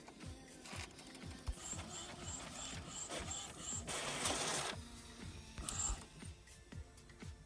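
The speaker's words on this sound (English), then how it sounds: "and it'll begin printing." A home printer runs off a shipping label, with a rapid ticking feed, a regular beeping pulse and a short burst of louder whirring partway through, all close and fairly quiet.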